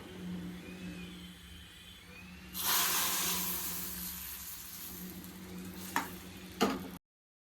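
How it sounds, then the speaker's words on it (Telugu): Mustard seeds, cumin, garlic, curry leaves and asafoetida hit hot oil for tempering, bursting into a sudden loud sizzle that fades gradually, with a couple of sharp clinks of a utensil near the end. "ఇంకిప్పుడు లైట్‌గా ఆయిల్ వేసి తాలింపు అయితే చేస్తున్నా."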